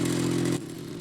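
A hydraulic mobile robot driving up a steep yard bank of about 45 degrees, with a loud steady mechanical hum and drone that drops in level partway through and carries on more softly, close by, with no talking.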